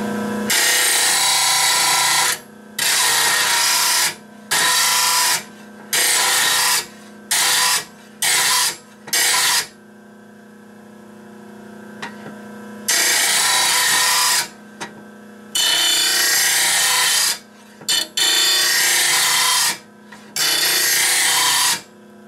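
A new grinder tool runs in loud, harsh bursts of grinding against metal while sharpening, stopping and starting repeatedly, with a quiet hum during the pauses.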